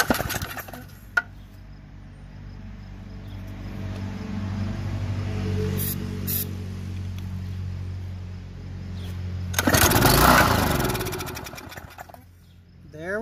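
A small mower-type engine on a loose, unbolted stand, primed with starter fluid, rumbles as it turns over and fires, with a loud sputtering burst near the end before it dies away.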